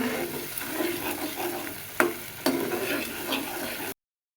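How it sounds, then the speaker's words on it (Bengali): Ground spice paste of chilli, turmeric, salt and green chilli frying and being stirred for a duck egg curry, a steady broadband sizzle with two sharp scraping knocks of the spoon against the pan, no voices. "এবার মশলাটা খুব সুন্দর মতো কষায় নিব"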